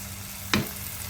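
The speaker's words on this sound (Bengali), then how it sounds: "যেহেতু মশলাগুলো আছে এর মধ্যে এখন হালকা হালকা করে কষবে।" Fried potatoes and pointed gourd cook with spices in a pan: one short, sharp scrape of a spatula over a faint, steady low sizzle, with no one talking.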